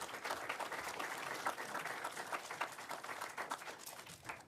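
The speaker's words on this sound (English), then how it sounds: "let's give a round of applause to our candidates" An audience at a town committee candidates forum applauds steadily for several seconds, a dense patter of clapping at moderate distance with no talking over it.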